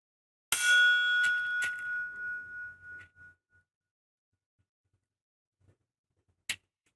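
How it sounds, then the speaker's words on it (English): A metal book divider is struck against metal, giving a sharp clang with a ringing tone that decays over about three seconds, followed after a pause by a second, shorter strike. "Let's try metal on metal."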